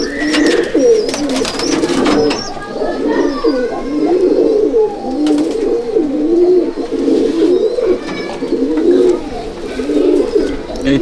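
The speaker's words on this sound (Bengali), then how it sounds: "তেজ পায়রা তো" Pigeons at a pigeon loft in Sangrampur cooing continuously and loudly up close, several birds' rolling coos overlapping throughout with occasional light knocks and rustles.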